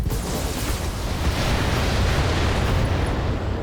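Atlas mech unleashing a full weapons barrage in the BattleTech video game, a dense, loud, continuous roar of explosions and blasts rumbling heavily throughout with no talk.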